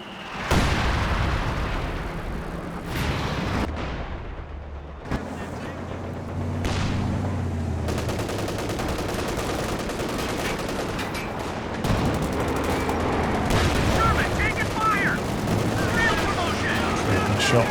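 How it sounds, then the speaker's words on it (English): Distant gunfire and explosions from a Company of Heroes 2 World War II battle, with scattered shots and booms over a constant battlefield rumble, under a commentator's voice. "Shots here."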